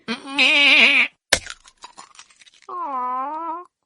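A goat gives a loud, wavering bleat up close, then a few soft crunching and chewing sounds follow, then a second, lower bleat.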